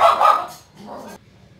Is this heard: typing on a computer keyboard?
no